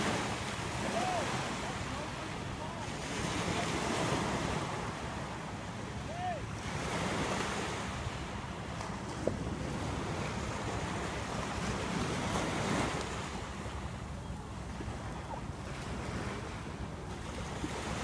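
Waves wash onto a sandy seashore in repeated soft surges, with a steady roar of surf and gusts of wind buffeting the microphone, moderately loud; faint voices occasionally come through.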